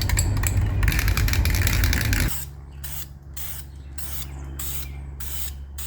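Aerosol paint hisses loudly and steadily onto used car exhaust manifolds for about two seconds. Then come quieter, shorter spray bursts in a rhythmic on-off pattern over a low mechanical hum.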